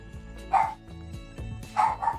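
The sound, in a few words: dog barking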